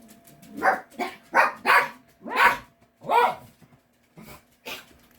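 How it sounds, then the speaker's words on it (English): Several dogs bark indoors in a quick string of sharp, loud barks with short gaps, mixed with a few higher yips. "Excuse my dogs, they're barking at Daddy."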